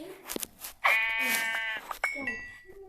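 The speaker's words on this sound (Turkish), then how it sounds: "Burada iki tane koyun var." A sheep in Minecraft lets out a loud, wavering bleat, followed by a second shorter bleat, with brief chatter and clicks around them.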